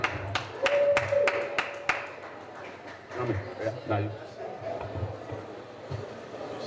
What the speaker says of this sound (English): A round of applause for Dr. Awoson.